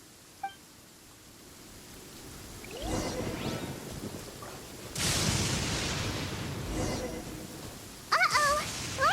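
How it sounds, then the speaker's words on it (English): Thunder from a lightning storm in Genshin Impact, low rumbling rolls swelling twice from a distance over a faint background, ending with a short burst of brighter game sounds. "Uh-oh! Lightning storm! Just our luck."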